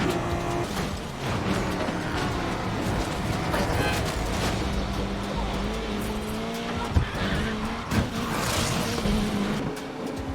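A car drifting in the Need for Speed Unbound racing game, with a revving engine and long tire squeals and skids that carry on steadily, broken by a couple of sharp thumps, alongside game music.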